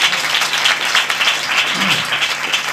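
A church congregation claps loudly together for Jesus, steady dense applause filling the room from start to finish, with no break.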